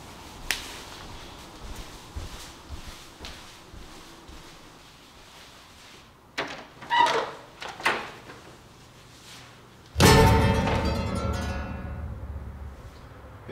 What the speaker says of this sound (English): Someone's at my door.